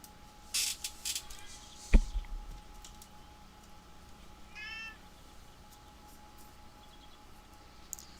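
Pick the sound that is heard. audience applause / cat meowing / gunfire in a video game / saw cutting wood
cat meowing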